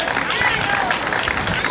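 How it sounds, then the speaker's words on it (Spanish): Spectators applaud runners finishing an urban street mile race in Cambados, a dense steady wash of clapping and crowd babble throughout the short stretch, fairly loud and close. "Fuerte aplauso para ambos."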